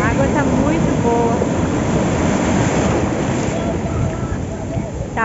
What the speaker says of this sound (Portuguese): E vem outra onda. Olha a onda.